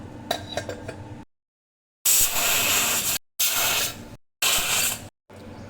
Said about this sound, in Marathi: कुकरला 3 शिट्या काढून घेऊया।